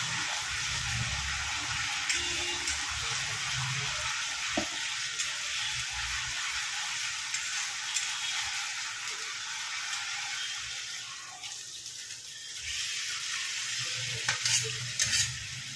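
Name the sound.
meat being stir-fried in a pan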